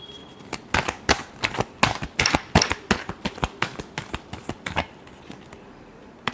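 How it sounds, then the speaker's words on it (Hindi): Tarot cards are shuffled up close in rapid, crisp riffling clicks that come in quick bursts for several seconds before stopping. "Last shuffle."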